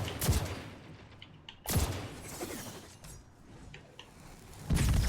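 Shotgun blasts in Destiny 2 ring out as three heavy, sharp booms spaced a couple of seconds apart, each followed by quieter clatter and game effects, with no talking.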